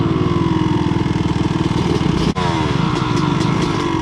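A dirt bike on the Tahuya ORV trails in Washington runs close by with a steady throbbing engine, briefly cuts out for an instant, then catches again and keeps chugging.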